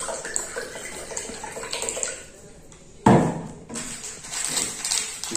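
Water poured into two containers for a biscuit and Eno science experiment, a steady splashing pour that drops away briefly and then returns with a loud gush, with a voice talking at moments.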